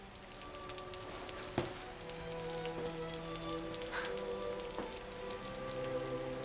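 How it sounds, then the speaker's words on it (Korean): Steady rain falls in a Korean film scene, with a dense, even patter on surfaces and a few louder drops now and then. No one speaks. "오늘 이렇게 비가 오는데 상민이가 우산 없어서 비 맞을지도 모르잖아"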